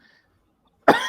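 One close, loud cough from a man, short and sudden after near silence.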